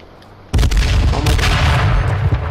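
A frag grenade goes off in the battle-royale game H1Z1 with a sudden loud boom after a quiet moment, then a sustained rumbling roar that fills the rest of the moment.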